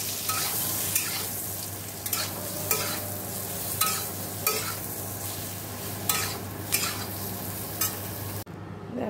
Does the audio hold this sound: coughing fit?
no